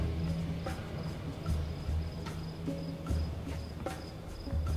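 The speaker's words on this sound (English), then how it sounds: "Odio los pinches mosquitos de aquí." Insects in the video game A Way Out, a steady high whine with pulsing, repeating chirps over a low ambient hum, close and continuous with no speech.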